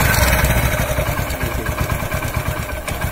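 A motorcycle engine idles steadily after its carburettor has been cleaned, a loud, close, even chugging putter without pauses.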